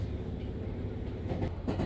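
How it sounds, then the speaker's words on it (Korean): Train running along the coast in Japan near Chiwata Station, heard from on board: a steady low rumble with a faint rhythmic clatter of wheels, growing slightly busier toward the end, no talk. "돌아가는 열차에서도 기관사 뷰를 바라보며 마지막까지 바다 열차의 분위기를 느껴봅니다"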